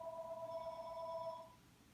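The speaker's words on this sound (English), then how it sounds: "There's the home phone now." A home telephone rings once, a faint electronic trill lasting just over a second and then cut off, in an otherwise quiet room.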